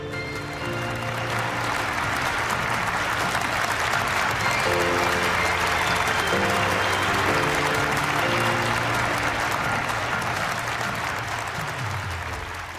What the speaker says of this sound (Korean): 여러분 환영의 박수로 맞아주십시오